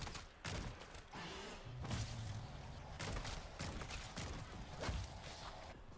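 Rapid gunfire bursts in the MW3 Zombies video game, repeated volleys with thuds and mechanical clatter filling the clip at a steady, moderately loud level.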